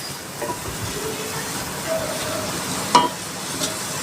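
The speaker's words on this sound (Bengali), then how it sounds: "মোচাটাকে ভালো করে এইভাবে নাড়া দিয়ে মিক্স করে নিতে হবে" Chopped banana flower and spices are stirred in a hot pan, a continuous gentle sizzle with occasional scraping clinks of the spatula, close and fairly loud.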